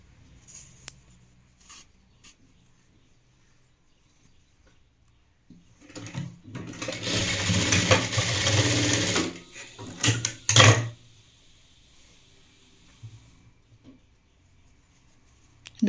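Domestic sewing machine stitching the side seams of a jilbab prayer dress, running in two bursts, a longer whirring run then a shorter one, between quiet handling noises.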